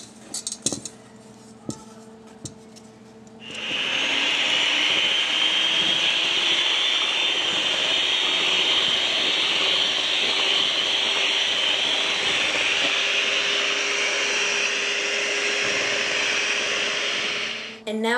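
A loud, steady whirring drone of an electric mixer beating cake batter runs continuously for over ten seconds, starting abruptly after some quieter clinks and thumps.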